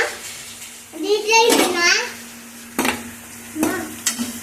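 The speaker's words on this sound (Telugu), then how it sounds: "ఇలా కట్ చేసిన ఆనియన్స్ మొత్తం వేసి మిక్స్ చేసుకోవాలి ఇట్లా" Chopped onions tipped into a hot pan for an arbi root curry and stirred, a sizzle and clatter of the spoon against the pan, with a voice talking over it.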